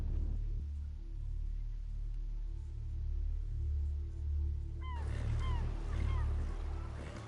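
A steady low rumble of a boat moving through water in the game Telltale's Game of Thrones, with lapping and churning, continuous and moderately loud, joined later by faint bird-like chirps.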